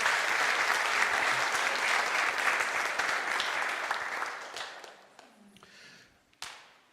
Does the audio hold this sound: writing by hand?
no